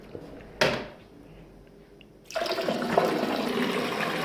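A toilet flushes indoors, beginning with a sharp click of the handle and followed a moment later by a loud, sustained rush of water.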